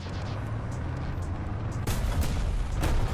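A War Thunder tank cannon fires amid steady engine rumble, with the sharp report landing around midway and a second burst following shortly after, moderately loud.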